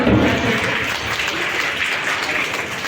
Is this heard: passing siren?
no